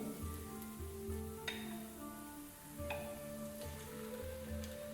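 Marinated chicken hits a pan of browned onions and fries with a steady, close sizzle and crackle over a low background hum, with no talking.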